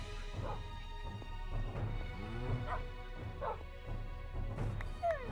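Dogs in the Minecraft video game whimper, yip and bark in a string of short, high calls over a steady background hum, the loudest burst near the end.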